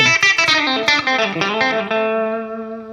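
A clean-ish electric blues guitar lead tone with light reverb and a touch of delay, plucking a quick run of notes before settling into a held, ringing note that decays slowly, heard alone and up close.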